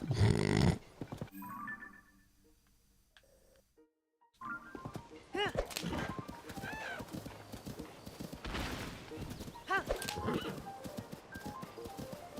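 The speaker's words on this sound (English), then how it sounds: "Horsey noises." Horse in Zelda: Tears of the Kingdom, with close hoof clip-clops and several whinnies and snorts, a brief quiet gap early, then steady galloping hooves; a person talks at times.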